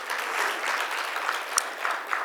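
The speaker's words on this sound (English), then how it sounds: "Please give them an incredible round of applause." Steady audience applause fills a hall at an immigrant rights summit event, dense clapping carrying evenly throughout with a couple of sharper claps standing out, no voices over it.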